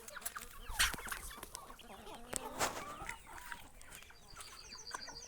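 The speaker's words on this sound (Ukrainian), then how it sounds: "Ось. такі наші індики." Turkeys of mixed breeds, white and black, some crested, clucking and calling in a crowded farm flock, with several sharp nearby calls rising above a steady background of softer clucks.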